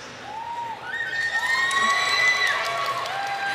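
An audience at the FF14 Fan Fest 2023 in Las Vegas cheers for the character Zenos, with a crowd roar and scattered whoops rising and holding steady, with no talk over it.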